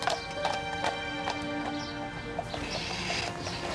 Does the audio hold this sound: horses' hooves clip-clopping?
yes